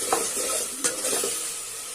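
Tomatoes sauté in a pan with a constant sizzle, broken by a few clear scraping stirs near the start and middle, close and fairly loud, with no one speaking.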